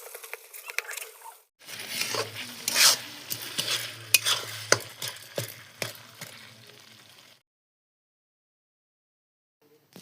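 Onions and masala frying in a pan for a pork curry while a utensil stirs and scrapes, a close sizzle with rhythmic scraping strokes for several seconds before it falls silent.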